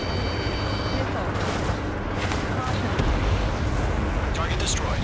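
Missile strike on an enemy aircraft in the combat flight game Ace Combat 7, a dense rumbling blast amid jet engine roar and radio chatter, with sharp bursts layered over continuous noise.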